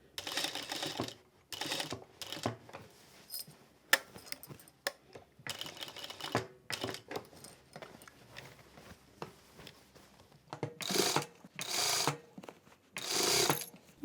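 A sewing machine stitches a hoodie neckline in short bursts of rapid mechanical clatter separated by quiet pauses, close and moderately loud.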